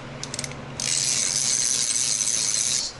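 A ratchet and socket working on the transmission of a Ford Focus ST: a few quick clicks, then a loud, steady run of rapid ratcheting close up, stopping abruptly.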